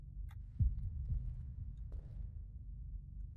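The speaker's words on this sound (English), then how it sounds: "I'm hearing like a heartbeat sound and I don't know what it is." A low, muffled heartbeat in the Deppart Prototype body-cam horror game, soft thumps under a quiet rumbling ambience with a few faint clicks.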